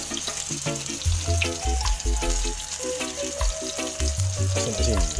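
Native chicken frying in a pan, a steady close sizzle with crackling bursts, as the dish for chicken tinola is cooked; scraping stir clatter and a faint background tone run under it, with no talking.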